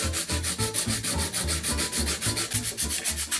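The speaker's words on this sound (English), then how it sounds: "I'm also using a nail file to do this, which is my preferred sanding apparatus of choice." Rapid, steady back-and-forth rasping of a nail file sanding epoxy on a small hard Rubik's cube puzzle piece, close up, about a dozen even strokes with no voices.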